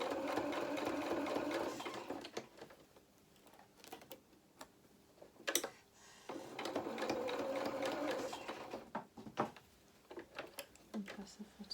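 A sewing machine stitches fabric for a hedgehog doll head in stop-start bursts of fast mechanical whirring, with quiet pauses and small handling clicks between runs, close and clear.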